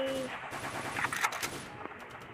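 Glock pistol fire in a mobile shooting game sounds as a rapid burst of sharp close shots amid game effects, loud and clustered over a couple of seconds.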